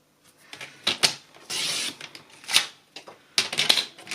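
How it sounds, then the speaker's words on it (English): Basic white cardstock being cut to size for a card, short crisp slicing and scraping strokes in uneven bursts, close and fairly loud with small clicks of the cutting tool between passes. "I'm going to cut the 9 inches part first,"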